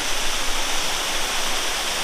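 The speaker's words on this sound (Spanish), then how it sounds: "Y he aquí la cascada desde lo alto." A waterfall in Chicoana heard from the top of the falls, a steady broad rushing roar of falling water that stays even and continuous throughout, with no voices.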